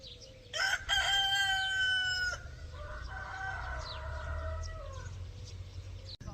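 A rooster crows loudly at about six in the early morning in a village neighbourhood, one long cock-a-doodle-doo followed by fainter distant crowing and clucks over a low outdoor rumble.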